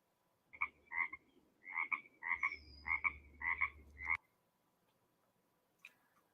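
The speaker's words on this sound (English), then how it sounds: "So certain frogs croak, others ribbit." Frogs croaking in a run of seven or eight loud, evenly paced double-toned calls, close by, followed by quiet with one faint call at the end.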